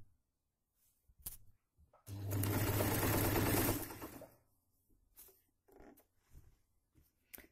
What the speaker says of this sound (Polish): zacznę szyć i może jak się rozkręcę, to uda mi się jakoś jedną ręką manewrować i drugą szyć